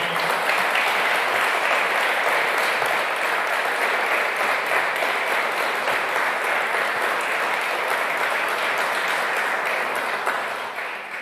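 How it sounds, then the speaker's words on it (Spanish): An audience applauds at a press announcement of the end of currency controls, a dense, loud and steady wash of many hands clapping for about ten seconds before beginning to fade. "Tampoco aplaudo tanto porque me voy a emocionar"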